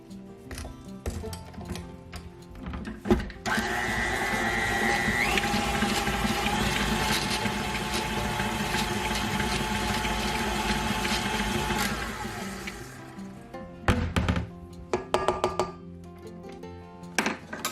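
An electric mixer creams gluten-free banana bread batter in a bowl. A steady whirring motor runs for about nine seconds with a slight pitch rise, set between quieter clinks and knocks of utensils before and after.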